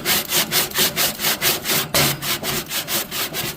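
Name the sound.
scrubbing pellet grill grates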